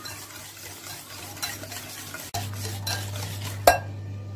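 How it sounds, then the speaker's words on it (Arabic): A utensil stirs sugar into cake batter of oil and beaten eggs in a bowl, making a steady scraping swish with a low hum behind it, a sharp knock partway through and a clink of the bowl near the end. "وبنزل بالسكر وافضل اقلب لحد ما يديني اللون الكريمي"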